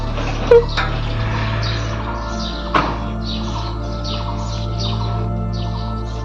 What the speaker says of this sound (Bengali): পাখিগুলো উড়ে চলছে, এই পাখিরাই তো আমাদের সকালবেলা ঘুম থেকে উঠতে অনেক সাহায্য করে